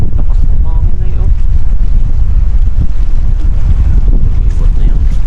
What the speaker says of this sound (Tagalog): Lakas na hangin na yun.